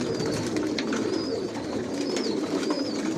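Racing pigeons in a loft coo repeatedly, with soft overlapping calls rising and falling over a steady low hum of birds close by, and nobody speaking.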